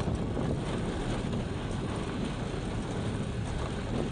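Wind gusting steadily, with a continuous broadband rush buffeting the microphone throughout, loud and unbroken, with no voices.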